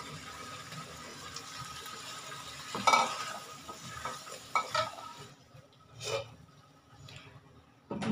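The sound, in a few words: potatoes frying and being stirred in spice masala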